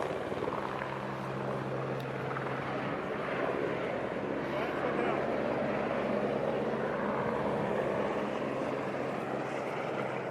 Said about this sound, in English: Customs helicopter.